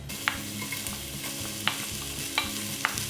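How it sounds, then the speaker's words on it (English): Slivered onions fry in grapeseed oil with a steady close sizzle, punctuated by four sharp utensil clicks or taps against the pan at regular intervals, no voices present. "We're gonna add in our slivered onions."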